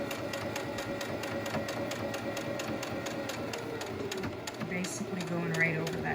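A sewing machine runs a continuous top stitch along the upper edge of a fabric face mask, a fast steady mechanical whir close up, while a person talks over it.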